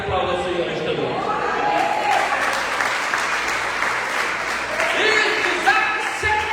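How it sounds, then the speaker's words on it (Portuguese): Congregation at an evangelical celebration service in a church in Manaus, Brazil, claps and applauds steadily and loudly, with voices and cheering mixed in across the whole stretch. "aplauda o Senhor esta noite"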